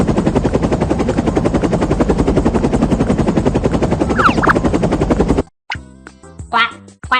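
A helicopter's rotor gives a loud, continuous rapid chopping throb for about five seconds, then cuts off into a brief, unrelated chiming tune.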